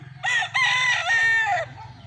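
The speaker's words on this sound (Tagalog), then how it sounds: "napakadami nating manok dito" A rooster crows once, loud and close, among the many birds on a gamefowl farm, with a low hum of other poultry underneath.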